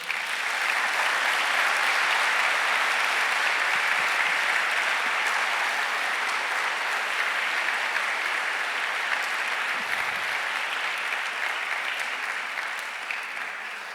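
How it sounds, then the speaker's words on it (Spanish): A church congregation applauds during a Spanish-language service, giving a long, sustained wash of clapping that stays loud and even throughout. "Dale un aplauso al Señor"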